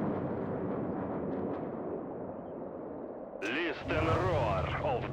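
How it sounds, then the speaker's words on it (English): Soviet artillery guns firing in a WWII real-time strategy game, a low rumbling barrage of booms and blasts continuing steadily, joined near the end by a voice speaking over the din. "The roar of the Soviet guns."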